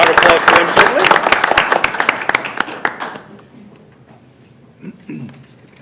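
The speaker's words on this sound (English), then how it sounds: "Round of applause for them, certainly." Applause from an audience at a school board meeting honouring a student, a dense burst of clapping that gradually thins and fades out, followed by faint murmuring.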